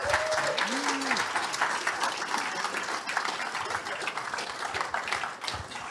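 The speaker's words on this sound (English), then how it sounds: "give Sam Primm a round of applause" A room full of people applauding during a live real estate training event, sustained dense clapping with a brief vocal sound from the crowd near the start, tapering slightly at the end.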